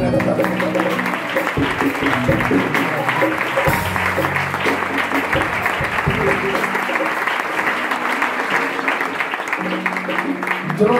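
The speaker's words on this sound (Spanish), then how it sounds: "Den un fuerte aplauso a ustedes esta vez." Church congregation applauding, a dense sustained clapping that fills the whole stretch with constant crowd noise, while a voice speaks over it.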